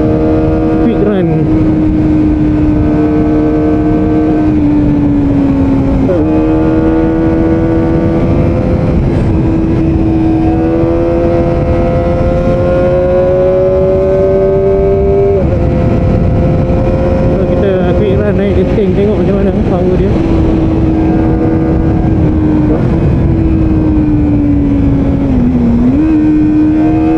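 A Kawasaki Ninja ZX-25R SE climbing a hill road in Malaysia, its high-revving engine whining loudly and continuously, pitch stepping up and down through gear changes, with a rider talking over it.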